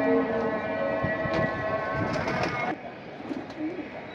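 Pigeons coo among other pigeons in a cage at a sale, a soft repeated murmuring under a low background rumble.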